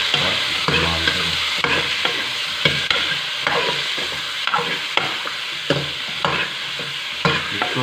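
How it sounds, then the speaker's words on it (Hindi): Bone-in meat roasting in a pan for shami kabab, with a steady sizzle broken by repeated scraping stir strokes at close range, no voices. "इसको जस्ट हमने भूनना है, जलाना नहीं है"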